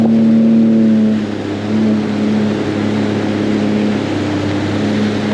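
A Sea-Doo FishPro Sport 170 jet ski runs on open water with a loud, steady engine drone that is close and unbroken, dipping briefly and then holding its level with no voices.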